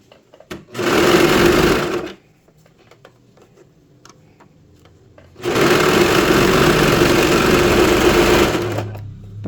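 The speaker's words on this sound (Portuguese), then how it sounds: "Dá uma esticadinha e vem costurando." Sewing machine stitching fabric for a pet dress, two loud steady bursts of rapid whirring close by, separated by a quiet pause with faint fabric handling.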